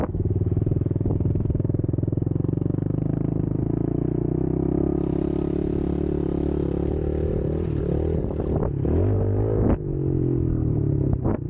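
A 2015 Yamaha TTR 110 dirt bike engine drones steadily while being ridden around an old dump site, loud and close throughout, with its pitch shifting and rising toward the end as the throttle changes, and no voices.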